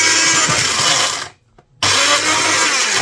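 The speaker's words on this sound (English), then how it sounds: "this isn't the best blender in the world" Countertop blender crushing pork scratchings whirs loudly and harshly up close, cuts out briefly for about half a second, then roars back into the same grinding motor noise.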